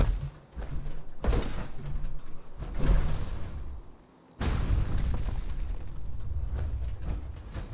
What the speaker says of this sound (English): this is a 203 grenade launcher, anyways